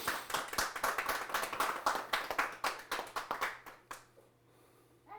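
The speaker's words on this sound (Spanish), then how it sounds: "Denle un aplauso al Eterno" A group claps rhythmically in quick, steady beats, then the clapping fades away into near silence with one last faint sound.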